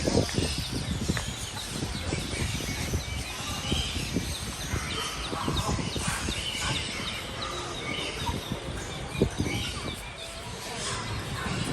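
Bantam chickens at a market cluck and squawk amid a dense, steady din of poultry calls and crowd bustle, with people talking nearby.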